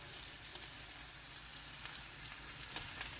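Onions for Jamaican peppered steak sizzle in a hot pan with a steady, crackling hiss, close and fairly quiet, with no voices.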